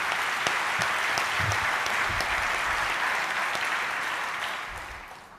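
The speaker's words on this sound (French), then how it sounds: "Je nous demande de l'applaudir et de le joindre également à nos applaudissements." A conference audience applauds at a debate on the economy and technological revolutions, with dense, steady clapping that fills the room and then fades away near the end.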